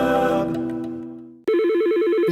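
A telephone rings in a radio advert for a business phone system, a brief bright trill sounding twice, loud and close with nothing else over it.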